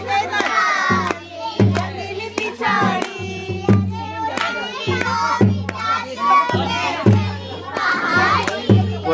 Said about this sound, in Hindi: अभी यहाँ चल रहा है बच्चों की अपनी मस्ती